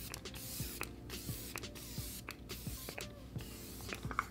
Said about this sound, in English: I'm gonna try some setting spray on my face because I like to do that right before I go in with highlighter